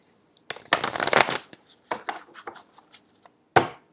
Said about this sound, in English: Couple of shuffles here.